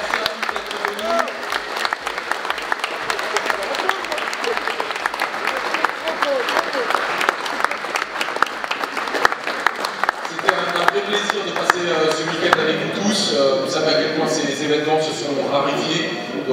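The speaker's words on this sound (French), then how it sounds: "on demande un dernier applaudissement et un maximum de bruit" A crowd at a large French Warhammer 40,000 tournament bursts into sustained applause with rhythmic clapping and cheering, loud and dense, shifting toward shouts and raised voices in the last few seconds.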